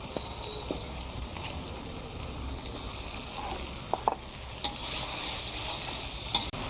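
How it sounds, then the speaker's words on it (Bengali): Potatoes sauté in a spiced masala in a pan, giving a steady soft sizzle throughout, broken by a few sharp clacks of a spoon stirring near the end. "এবার এই মশলার মধ্যে আমি আলুগুলো দিয়ে আলুটাকে কিছু সময়ের জন্য একটু কষিয়ে নেব।"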